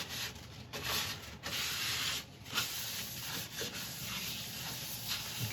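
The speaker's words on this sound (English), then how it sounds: "I'm very sympathetic with the sanding, especially on the edges" Steady abrasive sanding of an apple wood turning spinning on a lathe, a continuous close rasping hiss with brief pauses as the paper lifts away and presses back on.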